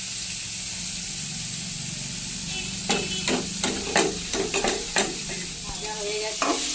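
Chana dal fritters sizzle steadily in hot oil in a pan, a continuous frying hiss punctuated by several sharp scrapes and stirring clatters in the second half, close and fairly loud, with no voices.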